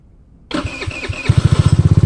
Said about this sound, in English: You'd be surprised how much wattage this bike will need just to start the bike.